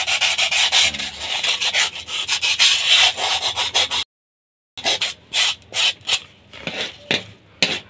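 A rusty knife blade is rubbed with a sharpening tool in quick, rasping back-and-forth strokes, loud and close, with a brief pause midway before sharper, more separated strokes resume.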